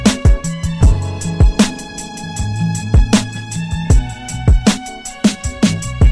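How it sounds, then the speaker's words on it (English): Synthesized electronic tones produced from the electrical signals of rare, near-extinct plants at a conservation exhibit in London, with rhythmic percussive hits and sustained low drones repeating steadily, loud and alone. "you can hear these like synthesized sounds in the background"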